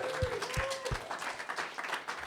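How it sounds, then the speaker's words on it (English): Audience applause at a live comedy show at the Museum of Comedy in London, a steady wash of clapping from a crowd with a few louder nearby claps, a voice briefly audible over it. "give a round of applause for the venue"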